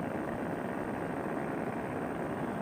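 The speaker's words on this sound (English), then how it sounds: "Airplane flying over here." An airplane passes overhead, heard as a steady, broad engine and propeller drone from a distance. It is captured in open air near a flying paramotor trike.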